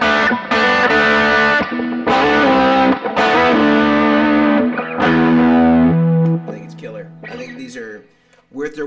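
Stratocaster-style electric guitar on its neck pickup played through an effects pedal, sustained chords and notes with a distorted, effected tone ringing loud and alone, trailing off into lighter picked notes at the end.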